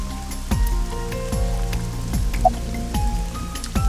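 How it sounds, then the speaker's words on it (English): Rain in the video game AI: The Somnium Files, a steady pattering with distinct drips and low thuds recurring about every half second, fairly loud and close, with no talking. "Man, this rain, huh? It's unusual for this time of year."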